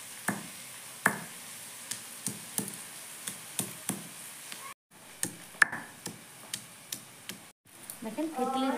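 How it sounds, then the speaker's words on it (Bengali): Ginger and garlic are crushed with a run of sharp, evenly spaced pounding strikes, about a dozen in all, broken by two brief pauses, while a voice can be heard faintly underneath. "এইদিকে আমি আদা রসুনটা থেতো করে নেব।"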